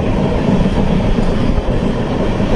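A train runs along a raised track through widespread Assam floodwater, giving a steady, loud, close rumble with continuous wheel clatter and no voices.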